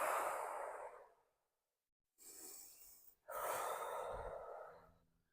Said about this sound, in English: 3 breaths through your nose.